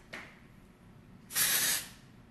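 Hair spray released from an aerosol can in a salon, held well away from the hair: one steady hiss of about half a second, preceded by a faint brief puff, in an otherwise quiet room.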